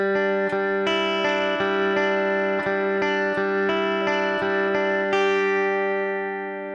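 A slightly overdriven electric guitar plays a song's full intro section: a steady run of about a dozen picked notes at an even pace, ringing into each other, ending on a sustained note that slowly decays. It is up front and alone, with no talking.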